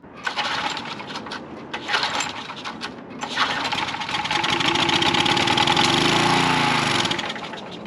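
A 1953 Kenworth bus engine, just cleared of carburetor flooding, rattles and clatters at first, then catches and runs steadily with a loud, rough, knocking idle up close.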